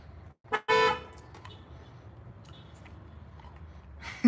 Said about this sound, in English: How's the bus horn sound?